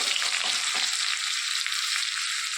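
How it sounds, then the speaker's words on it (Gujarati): Cumin seeds, chillies and peanuts sputter in hot oil for a potato curry, giving a steady, loud, close sizzle with faint crackles early on and no talking. "2-3 કરી જેવું તેલ નાખી દીધું, એમાં જીરું નાખ્યું છે"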